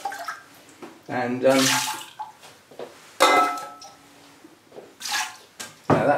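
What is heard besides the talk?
water poured over orchid roots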